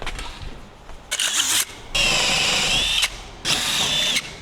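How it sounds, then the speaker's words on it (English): A power drill whirs in several loud bursts, revving up and cutting off between runs, with no talking. "I'm gonna get back to drilling some holes over there"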